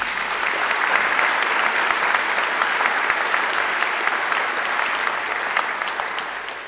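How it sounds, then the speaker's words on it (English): Sustained applause from a graduation ceremony audience honouring alumni volunteers: many hands clapping in a bright, continuous roar that holds steady, then tapers slightly at the end. "They deserve a great round of applause too."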